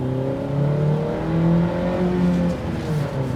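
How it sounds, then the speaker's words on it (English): A Honda Civic hatchback's small four-cylinder engine with a manual transmission revs up and down under load, a loud, close, rising and falling whine with no talking. "This is a little Honda engine. It just wants to rev."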